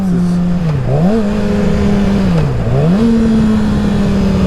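A Yamaha R6 sport motorcycle engine screams loud and close, its pitch dipping sharply and climbing back twice as the rider blips through downshifts, then holding a steady high whine.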